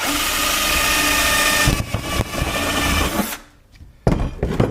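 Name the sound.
power drill drilling aluminum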